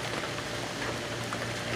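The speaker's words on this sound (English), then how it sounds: "Now it's actually starting to rain" Steady broadband hiss of rain falling during a thunderstorm, even and continuous throughout, with no voices.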